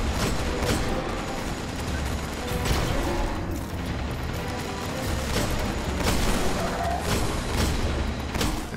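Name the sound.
gunfire in the video game Destiny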